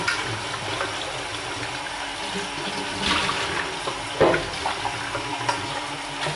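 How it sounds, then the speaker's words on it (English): A pot being scrubbed out quickly under running water at a sink, a continuous close rush of tap water with brief louder splashes and scraping as it is rinsed. "scrub this all out quickly"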